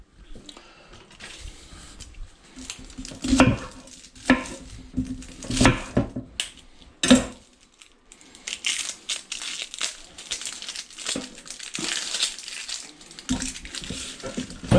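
Mushrooms and onion cooking in a pan, heard as close crackling sizzle with bursts of rustling, clattering and scraping as the pan and food are handled, loud and uneven throughout with no speech.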